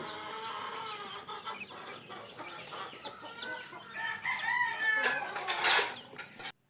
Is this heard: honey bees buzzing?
no